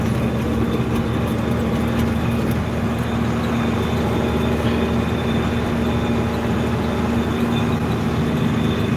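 A tractor engine runs in a loud, steady drone with a constant hum during harvest in a field, with no pauses or talking.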